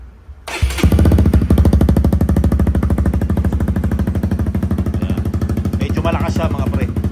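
A Honda CBR1000RR-R motorcycle fitted with a silencer starts up and revs, its engine a loud, close, rapid pulsing throb that holds steady for several seconds and wavers slightly at the end.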